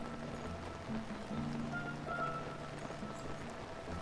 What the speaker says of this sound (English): It's still raining though, which is ridiculous.